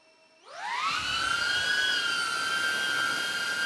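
A DJI Avata 2 drone's propellers spin up from silence, their whine rising in pitch within half a second and then holding as a loud, steady, close buzzing hum.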